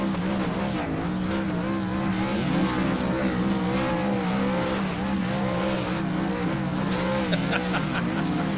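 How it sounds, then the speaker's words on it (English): Race truck tires squealing continuously as a driver spins donuts at Homestead-Miami Speedway, with a roaring engine throughout, loud and sustained. "Kevin McCann doing donuts around the competition."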